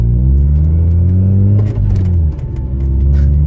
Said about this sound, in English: Oh, there's a car behind me.